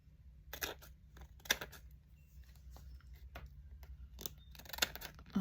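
Scissors snip through paper being cut for acetate vintage window frames in a quiet room, a few faint, sharp cuts spaced unevenly.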